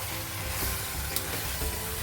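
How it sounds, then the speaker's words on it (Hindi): Chicken roasting with masala in a pan for a Malwani chicken curry, a continuous close sizzle with soft stirring scrapes and no voices. "अभी ये मसाला के साथ में अच्छी तरह चिकन को भूनना है"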